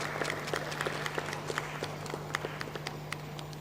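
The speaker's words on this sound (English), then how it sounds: "Shall we now welcome, with a round of applause, Professor Charles Barnow," Audience at a university election debate in Accra applauding to welcome a speaker, a steady wash of many hands clapping with scattered sharper claps, moderately distant in a large hall.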